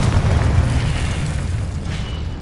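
A Confringo spell explodes in Hogwarts Legacy, a loud, deep, booming burst that rumbles on and slowly tails off, with no talking over it.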